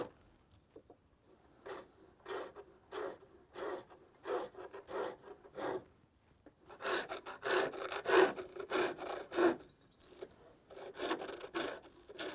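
A chisel scrapes oak heartwood on a pole lathe in rhythmic rasping strokes, each cut a short burst repeating roughly every half second, quieter at first, then louder and denser, close by with no talk.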